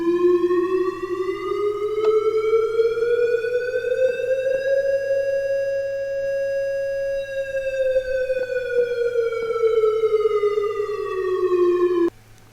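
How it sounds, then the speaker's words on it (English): NovaBlocks alarm siren sounding a long, loud wailing tone that slowly rises in pitch, holds, then falls again over about twelve seconds before cutting off abruptly, alone with no voices. "So let's hear these different"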